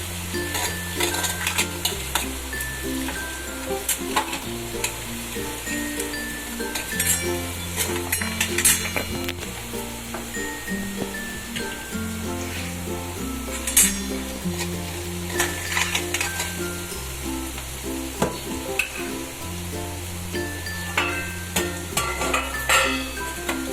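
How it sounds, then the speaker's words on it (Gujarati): Onions sizzle and fry in a pan with steady crackling as dabeli filling is cooked, while background music plays and utensils occasionally scrape and clink. "આપણે ડુંગળી એકદમ સતરાઈ ગઈ છે"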